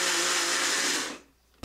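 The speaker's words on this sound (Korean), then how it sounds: "간편하게 믹서기를 활용하시면 되거든요" A blender whirs loudly at full speed for just over a second while making yogurt, then winds down and stops abruptly.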